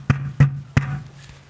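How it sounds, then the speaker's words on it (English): Feed being scooped out of a bucket during farm chores: three sharp, hollow knocks about a third of a second apart, close and moderately loud, each followed by a brief low ringing, with a fainter scrape near the end. "Sorry about that noise, trying to get this feed out of this bucket."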